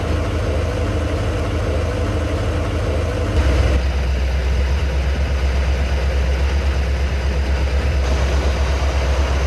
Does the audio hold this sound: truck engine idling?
yes